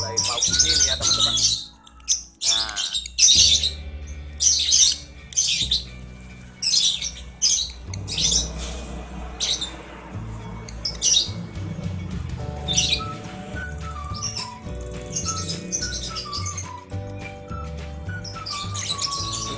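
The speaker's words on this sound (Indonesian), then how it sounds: "Nah, ini yang jantannya mulai mau bunyi nih ya, teman-teman." Up close, a male lovebird sings a busy run of sharp chirps, squawks and whistled notes in irregular bursts across the whole stretch.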